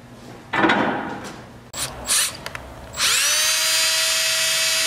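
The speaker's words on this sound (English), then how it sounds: "Man, I got to get the drill now." A handheld power drill with a metal-cutting bit drills into plastic, whirring steadily at close range after some brief scraping and handling noises, the motor holding a high, even whine.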